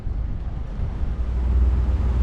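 A small boat's engine runs with a low steady rumble as the boat gets underway at sea, accompanied by wind and water noise that builds slightly toward the end.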